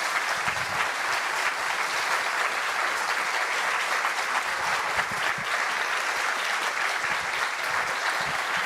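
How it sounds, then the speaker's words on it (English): Round of applause from a conference audience at the MLK Library, even, continuous clapping at steady moderate volume from start to finish. "let's give one last round of applause for Van."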